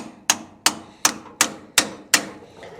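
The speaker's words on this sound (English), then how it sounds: "we're going to tap that seal in. I've got a big enough socket to reach around that." Six evenly spaced sharp metallic hammer taps drive a socket against an axle seal during rear axle assembly on a 1958 Willys DJ-3A, close and alone with no talk.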